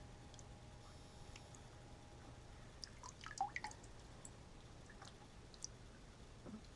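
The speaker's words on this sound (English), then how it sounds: "I'm just squishing out the gross, caked up nastiness so that it has better flow through the filter" An aquarium filter sponge clogged with caked-up gunk is squeezed out, giving quiet, scattered drips and soft wet squishes against a faint, low background.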